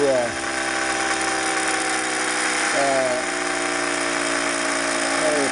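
Orbo-style electric motor spinning fast, a loud steady whine with strong harmonic tones that dip briefly and then recover, continuous throughout.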